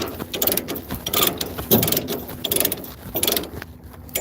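A cargo strap is tightened with a ratchet, giving repeated close, loud clicking ratchet strokes in an uneven rhythm with short pauses between pulls.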